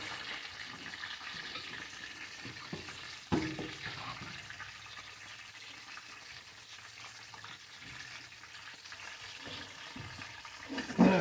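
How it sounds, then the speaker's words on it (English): Butter melts with pepper in a pan, making a soft, steady sizzle at low volume, broken by a couple of brief stirring knocks. "Stir that around a little bit. Get that butter melting."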